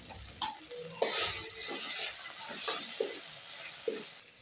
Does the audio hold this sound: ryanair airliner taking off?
no